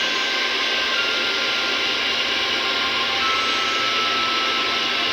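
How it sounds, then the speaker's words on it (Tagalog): A hairdresser's hair dryer blows steadily at close range, a loud, even whooshing hum that lasts the whole time with no voices over it. "Ayan guys, nag-blower na yung hairdresser."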